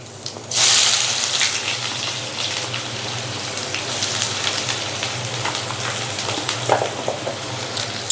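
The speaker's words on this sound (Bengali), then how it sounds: "পেঁয়াজটা আমি ভেজে নিচ্ছি" Chopped onions hit hot oil with a sudden loud sizzle that settles into a steady, close, rain-like frying hiss with occasional crackles.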